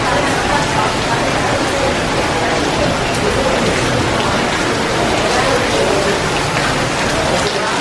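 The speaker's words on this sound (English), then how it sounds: "It's pouring." Heavy Florida summer rain pouring down, a loud, steady wash of dense raindrops hitting surfaces nearby from a covered spot, with a faint voice beneath it.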